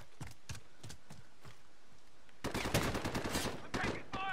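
Gunfire in Call of Duty Modern Warfare gameplay: scattered single shots at first, then a loud, rapid automatic burst that lasts about two seconds before fading to lighter shots.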